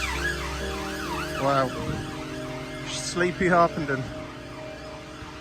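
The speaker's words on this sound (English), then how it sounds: "all the services come out with their sirens blazing" Wailing emergency vehicle sirens sweep up and down along a street in Harpenden, Hertfordshire, fairly close and loud, with a person speaking briefly over them.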